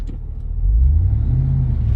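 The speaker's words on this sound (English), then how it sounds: "we're at a dead stop and hit on the gas and the RPMs rise, but the vehicle doesn't move" The engine of a 2000 Ford F-150 SVT Lightning revs up from idle while the truck sits stopped, a close, loud low rumble swelling and holding steady with no talk.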